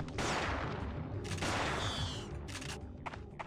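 Pump-action shotgun blasts in the game Parasite Eve 2 sound as sharp, loud, echoing reports with rapid follow-up shots and a lingering rumbling tail, played back without voices.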